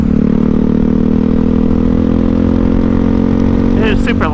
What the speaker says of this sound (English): It sounds crazy like that. There's no baffles in it, and this is just a slip-on.